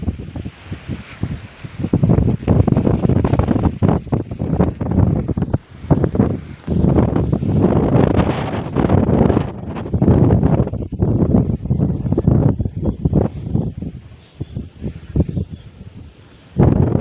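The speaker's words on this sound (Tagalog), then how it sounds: "Medyo malakas ang hangin." Strong wind buffets the microphone beside a fish pen on the water, loud roaring gusts rising and dropping in bursts over about seventeen seconds, with brief lulls between blasts.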